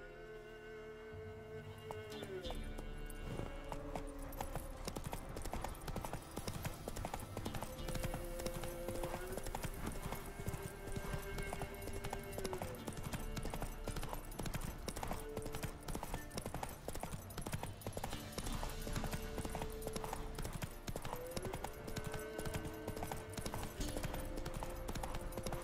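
Roach, the horse in The Witcher 3, gallops with rapid rhythmic hoofbeats that run continuously and loudly for the whole stretch, over layered game music and ambient sound.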